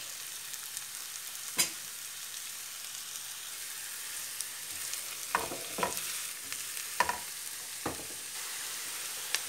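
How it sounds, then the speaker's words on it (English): Vegetables including aubergine stir-frying in olive oil in a frying pan give a steady, soft sizzle, broken by several sharp clinks and scrapes of stirring, close up with no voices. "So we shall put the whole lot in our frying pan and we shall just stir fry it"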